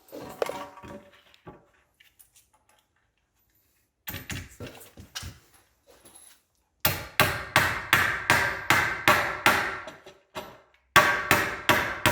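Sharp hammer blows ring out close by: scattered light taps first, then a steady run of heavy strikes, pausing once before a final volley.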